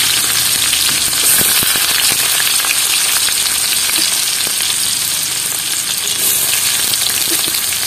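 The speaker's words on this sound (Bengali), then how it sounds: "এবার পেঁয়াজটাকে ভালোভাবে ভেজে নেব।" Chopped onions fry in hot oil over a nigella-seed tempering in a pan, a loud, continuous sizzle with sharp scattered pops throughout and no talking.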